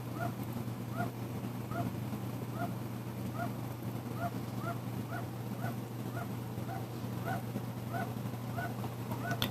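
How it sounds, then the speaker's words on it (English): Fire belly toads call in the background, a steady series of short, regular croaking pulses repeating about every half second over a constant low hum. "If you hear that barking in the background, those are actually my fire belly toads."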